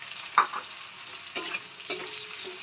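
Chopped onions fry in a hot pan with a steady close sizzle, with a few sharp stir scrapes standing out above it.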